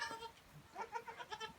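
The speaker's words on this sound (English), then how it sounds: "These little Kiko goats, here's my Kiko Billy" Kiko goats, a billy and a newborn kid only minutes old, heard in a short run of soft, faint bleats, several quick wavering calls close by with no talk.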